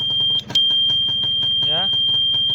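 Horn of a classic Honda Win 100 motorcycle, a steady high electric beep held unbroken for several seconds, loud and close, while someone talks over it.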